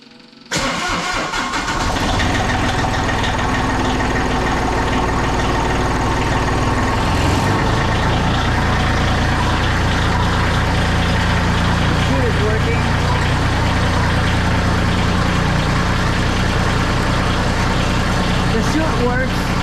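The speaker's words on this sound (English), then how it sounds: "But now let's start the tractor, make sure it starts correctly." A snow-blower tractor with worn glow plugs cranks and fires up, then settles into a steady, loud diesel idle that runs close by for the rest of the clip.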